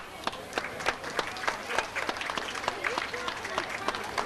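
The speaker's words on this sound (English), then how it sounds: "So we can have a big round of applause for them." A crowd gives a round of applause at a 1997 senior picnic in Medford, with dense, steady clapping that carries on for several seconds while a voice talks over it.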